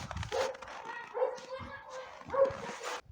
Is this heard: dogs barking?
yes